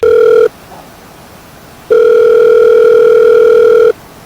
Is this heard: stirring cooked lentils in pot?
no